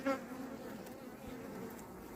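Honey bees hum around an open hive during queen introduction, a steady soft buzzing drone close by, fairly quiet and with no talking.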